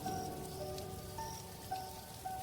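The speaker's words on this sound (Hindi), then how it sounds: "इतनी तेज बारिश में तो कोई बाहर नहीं निकलता।" Steady heavy rain pours down on a surface at night in a village setting, a dense continuous hiss with faint tonal background music layered over it and no voices.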